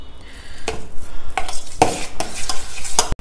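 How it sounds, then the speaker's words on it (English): Curd rice mixed with a spoonful of butter is stirred in a pot, with several scraping, clattering strokes spread across a few seconds, close and fairly loud with no talking. "Then mix it well together."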